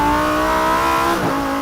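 Naturally aspirated V10 of a Lamborghini Huracan EVO RWD revving loud and close, a sustained high engine note that dips sharply as it changes, then recovers.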